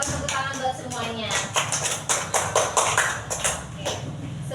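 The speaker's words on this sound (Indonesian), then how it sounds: "Pakai tepuk tangan buat semuanya." Schoolchildren in an Indonesian classroom clap their hands together in quick rhythmic bursts, a steady run of close claps layered under children's voices.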